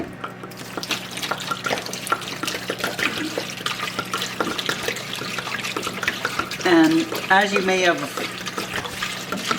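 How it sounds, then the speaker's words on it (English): Tap water poured over bones for bone broth, a continuous splashing stream that swells louder near the end, with a person talking over it. "but first I'm going to pour some water over the bones"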